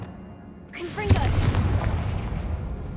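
A Confringo fire spell cast in Hogwarts Legacy bursts with a sudden sharp boom inside a decaying catacomb, then a rumbling roar tails off over a couple of seconds, following a brief whoosh of the cast.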